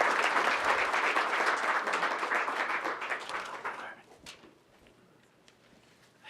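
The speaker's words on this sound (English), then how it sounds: "Big round of applause." Audience applause at a weekly 1 Million Cups KC gathering, a dense crowd of clapping that holds steady for about four seconds, then thins out and fades to a few scattered claps.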